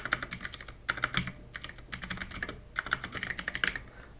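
A computer keyboard is typed on up close while a command is entered, giving brisk bursts of clicking keystrokes broken by short pauses, with no one speaking.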